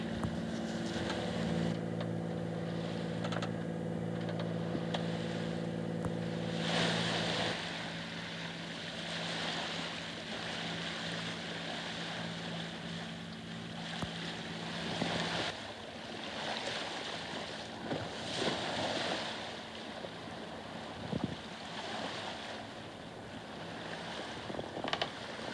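A motorboat drones steadily through a 4-knot headwind off Frioul, water rushing and slapping against the hull, with wind noise over a continuous churning wash.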